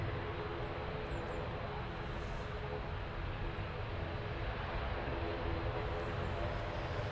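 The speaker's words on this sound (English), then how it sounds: "just coming into view then is the Etihad Boeing 777." Etihad Boeing 777-300 bound for Abu Dhabi at Manchester Airport, its engines a steady broadband roar holding at an even, fairly loud level throughout, with no talk over it.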